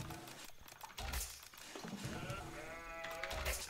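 Sheep bleat repeatedly over a continuous busy background in a video game, the cries rising and wavering, with low thumps now and then.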